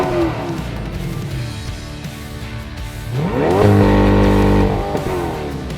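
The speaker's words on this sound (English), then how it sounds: "You hear that? You hear that? You hear that whistling?" A Chevrolet C8 Corvette Stingray, a 2020 mid-engine car, idles and then revs, its engine rising in pitch with a whine or whistle that swells loudly and then holds.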